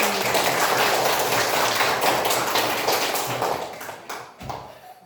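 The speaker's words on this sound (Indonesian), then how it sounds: "kita berikan tepuk tangan" A children's class applauding in a classroom, a dense, steady patter of small hands clapping together for several seconds before thinning out and stopping near the end.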